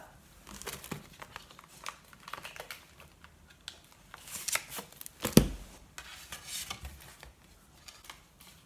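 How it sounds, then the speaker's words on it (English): A bone folder burnishes down a folded, pre-scored paper card in a series of quiet, short scraping and rubbing strokes, with one sharper crinkle near the middle. "Just going to give it a burnish with my bone folder."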